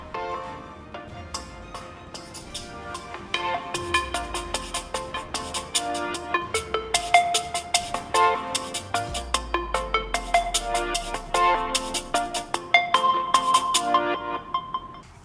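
Ringtone melody from an Infinix Note 12 Pro 5G phone's dual speakers, a bright electronic tune with plucked, rhythmic notes building in loudness over about fifteen seconds, heard alone.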